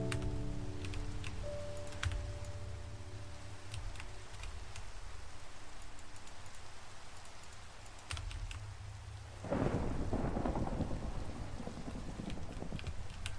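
Rain patters steadily during a Minecraft thunderstorm, with a deep rolling rumble of thunder swelling in near the end, broadband and continuous, accompanied by occasional keyboard clicks.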